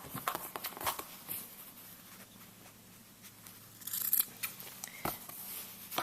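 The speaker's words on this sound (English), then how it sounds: "I'm going to go ahead and clip the corners" Scissors snipping the corners of a plastic treat bag, several close, crisp cuts in quick clusters with soft rustling of the bag in between, no talking.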